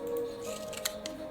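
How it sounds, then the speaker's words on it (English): A pair of scissors snipping through thorns in the video game Habromania, a couple of quick crisp cuts over a soft tonal game background. "My shiny pair of scissors should make quick work of this."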